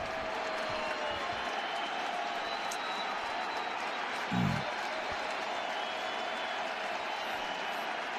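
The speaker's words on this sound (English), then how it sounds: "Crowd's getting loud." A baseball stadium crowd during an ALCS playoff game between the Guardians and Yankees swells into a broad, steady roar with scattered clapping, heard from a distance with one brief low thump midway.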